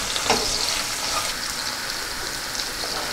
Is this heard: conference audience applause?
no